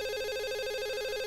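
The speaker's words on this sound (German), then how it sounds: "Ich sollte ans Telefon gehen." A telephone rings in the Dog Mendonça & Pizzaboy adventure game: a steady, warbling electronic ring that pulses rapidly and continues through the whole moment with no other sounds.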